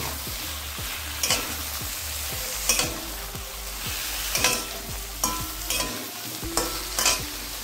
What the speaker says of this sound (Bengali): এবার এই তেলের মধ্যেই বেগুনটাকে ভেজে নিচ্ছি